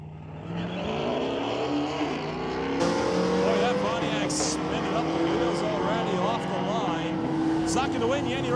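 A Chevy Camaro ZL1 launches in a street-legal drag race at a raceway, its loud engine rising through the gears as it roars down the strip, with the race announcer talking over the noise throughout.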